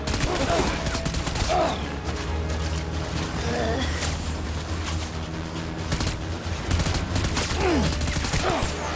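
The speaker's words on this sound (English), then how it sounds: "Surely if I keep shooting, it'll stop." Dense, continuous gunfire rattles throughout a firefight in the video game Death Stranding, with loud overlapping bursts and a few faint voice-like tones mixed in underneath.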